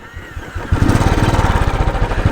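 A motorcycle ridden along a mountain road in Uttarakhand idles with a light putter, then revs up into a loud, close, throbbing engine drone with a rapid pulsing rhythm, and no one speaks over it.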